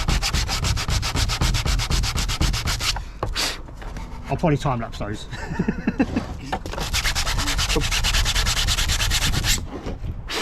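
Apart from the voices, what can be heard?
sanding R2D2 replica parts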